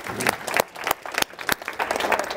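An audience cheers and claps at a diversity and inclusion event as a group stands, with sharp individual claps and whoops over a lively, uneven crowd wash.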